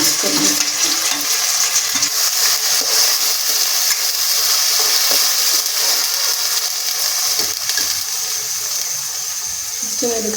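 Green paste frying in a pot of sambar gives a loud, constant close sizzle with busy stirring and scraping, a churning hiss that barely changes over the whole stretch.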